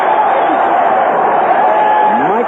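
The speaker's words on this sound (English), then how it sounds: "The crowd coming to its feet in the Astrodome." A baseball crowd in the Astrodome rises and cheers during a tense 1-0 eighth inning of an NLCS game, a loud, sustained roar of voices and whoops filling the whole moment on vintage radio.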